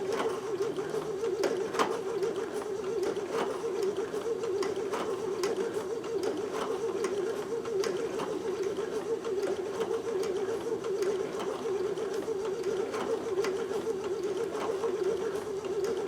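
Babylock sewing machine stitching knit fabric with a circular stitch attachment, a steady continuous motor hum with needle clatter running unbroken and close throughout.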